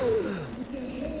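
Labored breathing through a gas mask with a worn-out filter in Metro 2033 Redux, a single loud rasping gasp that trails into strained wheezing, close up.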